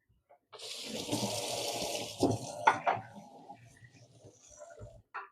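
Water pours through a metal colander into a kitchen sink while preparing an African dish, a steady gushing splash for about two seconds that then breaks into a few clatters and trickles.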